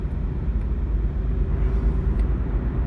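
Inside a Toyota Prius C hybrid moving at 60 km/h, a steady low road and engine rumble drones evenly throughout, with no voices.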